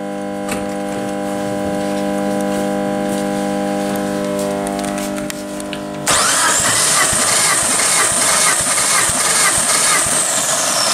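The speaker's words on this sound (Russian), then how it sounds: "Замер компрессии двигателя." Suzuki engine from a 2005-2015 Grand Vitara turning over during a compression test: a steady humming idle-like drone for several seconds, then a sudden louder, harsher rhythmic cranking churn that continues to the end.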